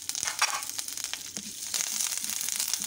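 Curry leaves and chillies crackle and sizzle in hot oil with urad dal in a pan while a spicy kozhukattai is being made. A dense, steady frying hiss with sharp pops runs close and continuous, with no voices.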